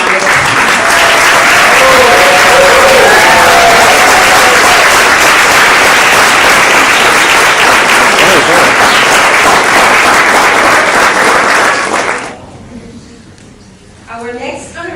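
Loud, sustained audience applause at a Nassau County Hispanic Heritage Month awards celebration, dense clapping filling the hall for about twelve seconds before dying away abruptly to quiet room sound.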